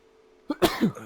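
A single sharp sneeze bursts out close by after a moment of near silence, with a short breathy tail and a second, lower vocal burst right after it.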